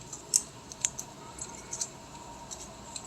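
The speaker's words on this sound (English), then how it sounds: "these scissors are not cutting very well" Scissors snipping through paper at close range, a few short sharp cuts spread irregularly over a quiet background.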